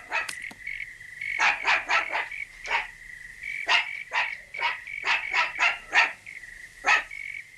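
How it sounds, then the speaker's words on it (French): A lone dog barks in repeated bursts, sharp yaps coming in uneven clusters at moderate distance with short pauses between them. "Pourquoi est-ce qu'il aboie?"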